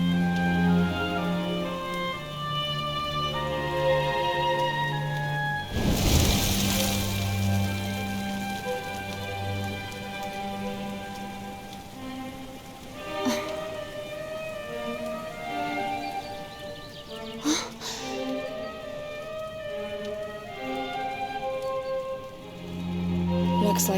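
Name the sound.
rain in the video game Dragon Quest XI S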